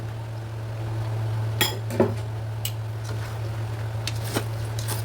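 Spanish sardine pasta stirred in a pan: a few light clinks and scrapes of utensil on metal over a constant low hum and faint background hiss, nearby and without talk.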